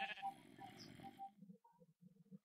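A sheep in the Minecraft video game gives a loud, close bleat that dies off, then a string of short, faint, clipped bleats follows.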